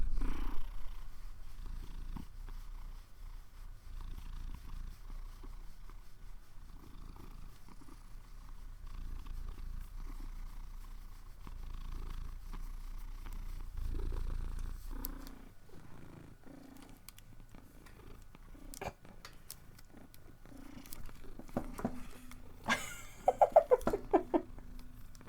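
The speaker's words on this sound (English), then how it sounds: "let's record your cute purr." A cat purrs up close in a steady, soft rumbling rhythm that carries on for a long stretch, with a few sharper rustles and clicks near the end.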